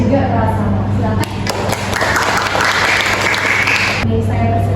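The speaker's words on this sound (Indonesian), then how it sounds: "langsung saja kita kasih tepuk tangan yang meriah untuk materi kita" Loud applause from an audience at a community nursing class presentation, a dense wash of clapping that swells for about three seconds over a steady low hum, with faint speech around it.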